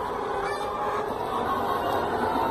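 A flock of about two hundred young chickens clucks with honk-like calls amid a busy, noisy background.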